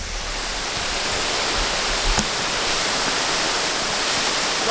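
Waterfall in Keswick in the Lake District, a steady, loud rushing roar of falling water with no break, up close and filling the scene.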